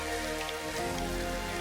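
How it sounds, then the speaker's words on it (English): Freezing rain falls steadily on branches in an autumn olive grove during a snowstorm, a continuous close patter with a low background hum and no voices. "You can see this freezing rain."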